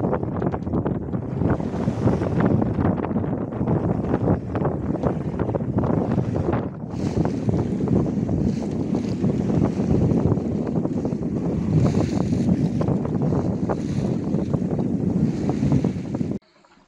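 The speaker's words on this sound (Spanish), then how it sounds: "vamos navegando a vela, bien, pero muy ceñidos, muy frenados" Sailboat sailing close-hauled on the crossing from Greece to Italy in a 12–13 knot north-northwest wind, with steady loud wind rush over the microphone and constant water hiss against the hull, no voices.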